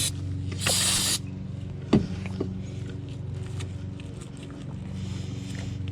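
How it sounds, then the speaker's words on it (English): Brake cleaner sprayed from an aerosol can onto engine parts of a Mitsubishi at the roadside, one loud half-second hiss near the start over a steady engine hum, with a few faint clicks afterward. "Okay, now I'm going to hit that with some brake clean."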